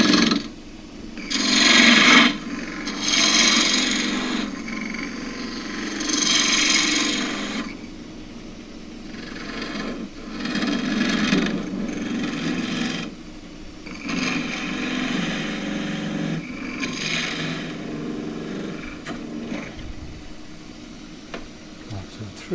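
A lathe tool cuts a Himalayan cedar goblet, giving repeated rasping, scraping bursts of a few seconds each, separated by brief pauses, with the wood oiled and lightly smoking.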